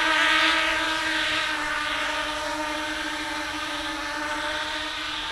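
A 200 size quadcopter drone's motors whine steadily at about 75% throttle during a GPS hold test, a loud, sustained buzzing drone with a faint wavering pitch throughout, no voices.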